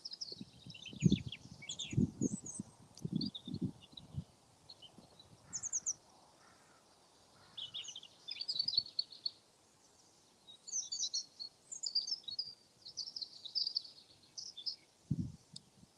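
Crows cawing in a few loud bursts at the start and again near the end, while smaller birds chirp and twitter steadily throughout, outdoors in spring near Brampton Old Church.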